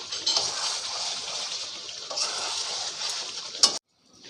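A spoon stirs chicken and sugar in a hot pan, giving a steady scraping sizzle up close that ends in a sharp clink before cutting off.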